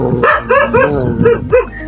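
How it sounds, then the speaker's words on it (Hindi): A dog barks repeatedly from a short distance, five or six loud, pitched bow-wow barks in an uneven rhythm, each one short and sharp with no talk over them. "एक वो देखो वहीं से भौंक रहा है"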